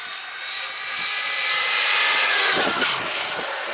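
An Arrma Outcast/Notorious 6S RC car geared with an 18T pinion on a speed run lets out a loud, high-pitched electric motor whine that swells and sweeps past, with a steady rushing hiss beneath.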